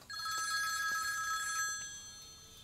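A telephone rings with a bright, rapid trilling bell that starts abruptly, sounds close and clear for about a second and a half, then fades out, with no voices.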